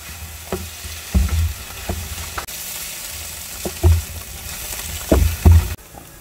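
Shiitake mushrooms and garlic frying in sesame oil, stirred with a utensil: a steady close sizzle broken by several louder scraping stirs, with no talking.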